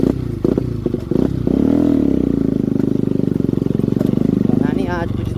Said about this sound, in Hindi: ज़्यादा ही पटाखे छोड़ रही है मेरी बाइक